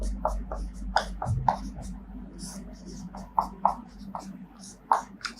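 Chalk or marker tapping and scraping on a board during a Hindi-medium Class 12 optics lesson, a run of short irregular strokes and taps at close range under a male teacher's ongoing speech.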